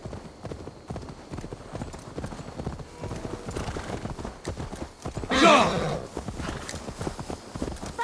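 Horse hooves clip-clop steadily in the video game Assassin's Creed Valhalla, a brisk close rhythm of hoofbeats running throughout, with a loud whinny-like burst near the middle and no speech.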